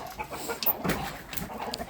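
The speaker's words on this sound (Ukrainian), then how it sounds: "Качачі сварки" Ducks squabble in a farmyard, a brown one chasing a white one, with a few scattered, scratchy squawks and quacks against outdoor background noise.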